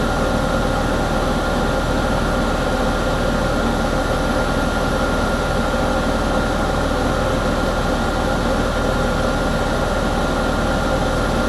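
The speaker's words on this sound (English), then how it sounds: "I'm going to try putting the drone a little higher." A drone climbing higher over a hay field during mowing, heard as a loud, steady, broadband engine-like drone that fills the whole stretch without a break, with no talking.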